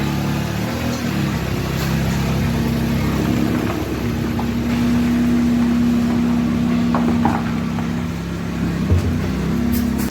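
A 2011 Dodge Caliber's engine runs steadily as the car is driven slowly out of a driveway and back in, a continuous low hum with mild rises in revs and no talking.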